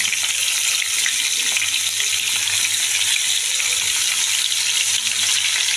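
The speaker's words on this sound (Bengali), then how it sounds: "মাছটা আমি ভাজা করে নেব" Tengra fish frying in oil in a narrow wok, a loud continuous sizzle and crackle that holds steady throughout, close and without any voices.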